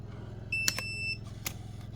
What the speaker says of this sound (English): Don't mind the beeping.